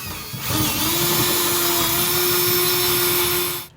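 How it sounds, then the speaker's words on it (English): A power drill whines steadily at constant speed for about three seconds, close and loud, drilling a hole for a bed rail kit in a 2018 Ram 2500, then winds down and stops. "When I drilled through, it kind of went at an angle."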